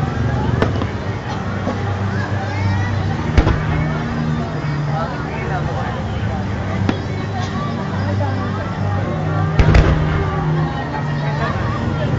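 Several sharp firework bangs burst at intervals against a steady rumble of traffic and people talking nearby at Mall of Asia.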